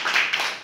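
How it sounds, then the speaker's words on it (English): Brief burst of hand clapping from a small group in a classroom conversation lesson, a short close patter of claps lasting under a second. "Applaud again, one more time."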